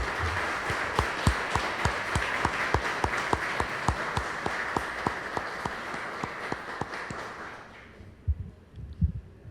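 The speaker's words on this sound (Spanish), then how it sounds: "solicito un fuerte aplauso para todas las abogadas y abogados" A hall audience applauds lawyers on Lawyers' Day with dense, sustained clapping. Steady rhythmic beats run under the crowd noise for about eight seconds, then the applause fades to a few scattered claps and thumps.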